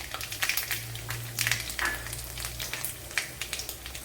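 Mustard seeds and dried red chili sizzle in two tablespoons of hot coconut oil, a close, steady frying hiss scattered with sharp crackles and pops from the seeds.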